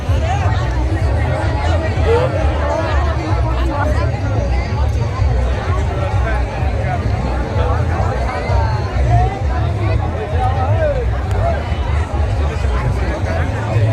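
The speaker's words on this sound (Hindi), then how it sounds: "देखिए कितना भीड़ है, लाखों की भीड़ है" A dense, steady crowd hubbub fills a road jammed with fans and motorcycles heading to a Khesari Lal Yadav show, with continuous overlapping voices and babble throughout, fairly loud and unbroken.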